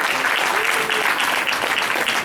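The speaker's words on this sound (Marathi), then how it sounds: "परत एकदा टाळ्या सगळ्यांसाठी" Audience applause at a Marathi school Diwali program, a steady dense clapping wash lasting throughout, fairly loud and even with no clear breaks.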